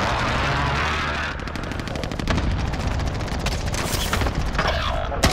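Gunfire in the Kingslayer video game, dense rapid bursts of shots sounding close and loud almost continuously, with faint voices now and then.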